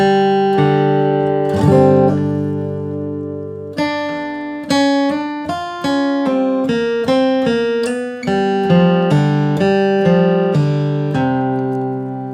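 A bluegrass flatpicked acoustic guitar picks a quick melodic run, bright plucked notes following each other in a lively rhythm, played alone and close up.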